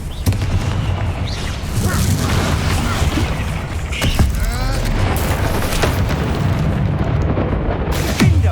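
Confringo spell blasts in Hogwarts Legacy, several booming explosions and bursts over a loud, dense combat din lasting throughout, with a voice casting spells amid the noise.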